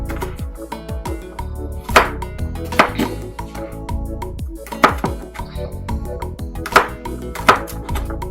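A knife chops garlic on a cutting board in a kitchen, sharp irregular taps with several louder strikes, and background music plays throughout.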